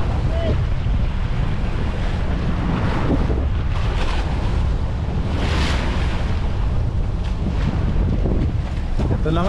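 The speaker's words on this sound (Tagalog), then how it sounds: "Ang lalaki ng alon pala dito" Big ocean waves surge and wash continuously around a boat at sea off the West Philippine coast. Heavy wind buffets the microphone throughout, keeping the roar loud and unbroken.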